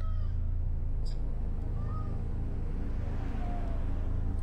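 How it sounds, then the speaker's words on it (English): Several faint, brief meows from a cat, spread out over a steady low background hum. "meowing's not gonna help you, little one."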